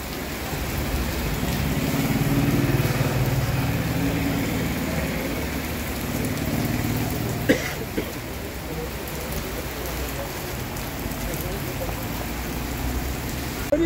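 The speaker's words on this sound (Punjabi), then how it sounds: "ਬੜੀ ਤੇਜ਼ ਬਾਰਿਸ਼ ਆ ਗਈ" Heavy rain pours down on the town of Samrala, Punjab, in a dense, steady hiss, with a single sharp knock partway through and faint voices underneath.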